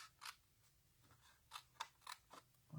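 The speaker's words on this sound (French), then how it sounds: "On va d'abord couper cette languette." Scissors snip through a paper tab in a quiet room. Several crisp, close cuts come in an uneven rhythm, some of them doubled, with soft paper rustle between the snips.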